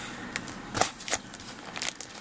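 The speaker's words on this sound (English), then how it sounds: "I think I'll cut off a corner first" Scissors snip at the corner of a package, giving a few short crinkling cuts and rustles of packaging at close range, with no talk.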